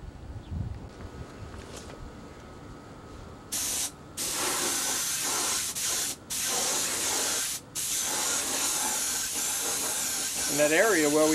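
A spray gun laying another coat of clear over silver paint on a Windy 815 boat hull during a repair, loud close hissing bursts with brief gaps between passes and a short voice near the end.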